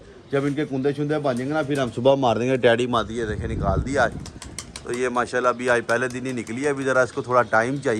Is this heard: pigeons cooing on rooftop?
yes